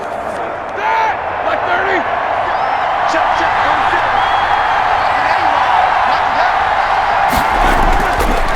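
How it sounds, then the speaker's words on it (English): Steady roar of a stadium crowd in Madden NFL 21 during a simulated Steelers versus Eagles game, a loud continuous wash of cheering with a commentator's voice talking over it. "The crowd's making some noise now."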